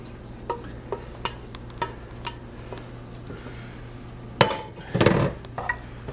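Drained, browned ground beef goes back into a cooking pot: light metallic clinks and ticks, then a louder clattering thump and rustle as the meat lands, followed by a few softer taps.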